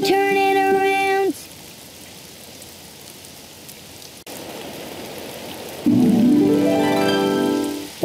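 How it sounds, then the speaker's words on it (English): Rain falling outside, a soft, steady hiss filling the middle stretch, with bright musical tones just before and rising again after it. "Oh, it's raining outside."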